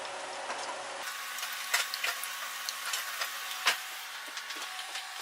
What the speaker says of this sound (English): Starting to fry.